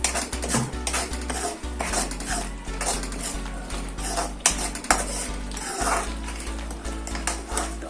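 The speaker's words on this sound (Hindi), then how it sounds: "और इन मसालों को हमें इसमें अच्छे से मिक्स कर देना है।" A spoon stirs coriander powder and Kashmiri chilli into tomato-based rajma masala in a pot, with steady scraping and clinking and a faint sizzle throughout, close and moderately quiet.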